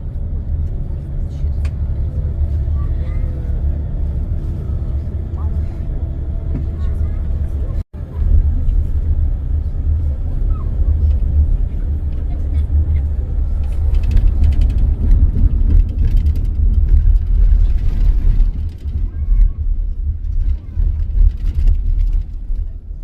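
Steady low rumble of a bus engine and road noise inside a bus on a long ride through Ukraine, sustained throughout with occasional rattles and a brief dropout.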